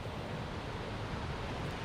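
Rushing water at a waterfall overlook, a broad, steady roar heard faintly and continuously with no talking.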